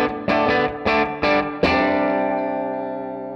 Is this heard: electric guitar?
yes